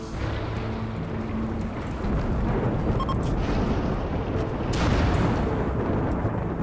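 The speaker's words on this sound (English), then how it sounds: "Dry thunderstorms, I hate these." Thunder from a dry thunderstorm in the video game Rimworld rumbles as a low, continuous, heavy roll that swells louder midway, with no talking over it.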